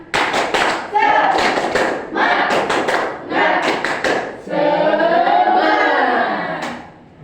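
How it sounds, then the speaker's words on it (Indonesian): A classroom group claps in rhythmic bursts of quick hand claps, with voices chanting along between and over the claps. "Tepuk tangan, tepuk semangat."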